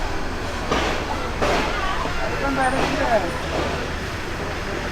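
The Kishoreganj Express intercity train sits at Sararchar railway station, with a steady rumble and occasional knocks and squeals under it, and people's voices in the background.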